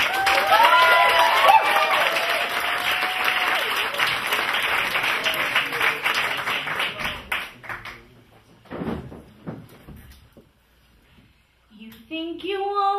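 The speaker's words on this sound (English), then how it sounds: "can you give her a good round of applause" Dense audience applause for a singer at an open mic night, loud sustained clapping for about eight seconds that thins into scattered claps and stops, followed by a few soft knocks and a brief voice.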